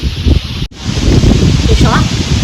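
Strong wind blowing outdoors in a village during the Bonalu festival: a loud, continuous low buffeting roar hits the microphone, with a brief dropout near the start and a person talking over it.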